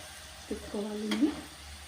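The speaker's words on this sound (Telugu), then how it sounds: "మొత్తము డీప్ ఫ్రై చేసుకోవాలి" Kudumulu deep fry in oil while being stirred, with a soft bubbling sizzle and a brief stirring sound, partly under a short spoken phrase.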